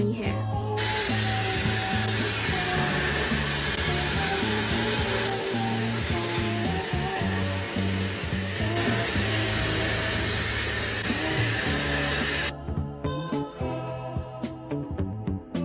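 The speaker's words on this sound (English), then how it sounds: "Run and get your hands on this Dreame hairdryer now." A Dreame hair dryer with a magnetic essence nozzle blows steadily, a loud broadband airflow hiss running most of the way alongside background music, then cutting off near the end.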